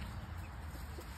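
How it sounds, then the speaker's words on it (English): Hens on a homestead, including Ameraucanas, Ayam Cemanis and Leghorns, cluck softly and steadily close by over a low murmur of farmyard background noise. "And some more happy chickens"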